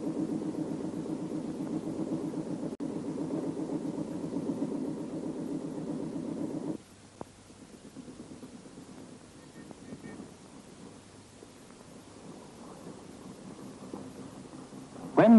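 A motorboat engine running during boatwork with a towed whaler near a jetty, a steady low throbbing drone that drops to a quieter idle partway through, with wind noise over the microphone.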